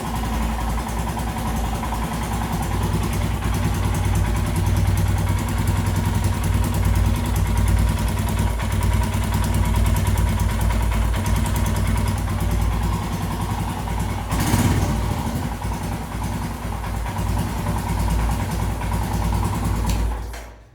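A Royal Enfield Himalayan motorcycle engine with new iridium spark plugs idles steadily at close range, a constant throbbing rumble with slight wavering, and no voices.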